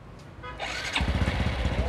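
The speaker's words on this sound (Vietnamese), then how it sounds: "đang nổ máy như thế này" A motorcycle engine with a fault that keeps revs from dropping promptly off the throttle cranks and catches, then settles into a close, loud, rapid idling chug.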